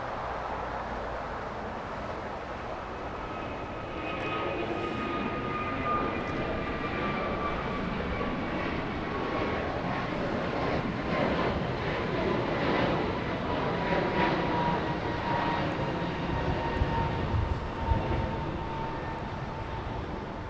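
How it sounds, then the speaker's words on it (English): An American Airlines Airbus A321neo bound for Kahului departs Los Angeles International Airport, its engines a continuous broad roar that swells slightly and holds steady at a distance. "An Airbus A321neo."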